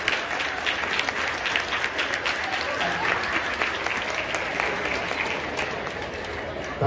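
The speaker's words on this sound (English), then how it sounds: "Big round of applause for Sir Keir once again, please." An audience applauds Sir Keir Starmer at an event, with sustained, loud, even clapping from a crowd throughout, close and continuous.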